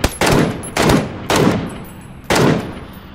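Four loud, evenly spaced Mk14 EBR sniper rifle shots in PUBG, each a sharp close crack with a short decaying tail, heard alone without talk.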